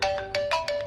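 A mobile phone plays its ringtone as a short burst of bright electronic chime notes in a quick rising-and-falling pattern, close and clear with nothing else audible.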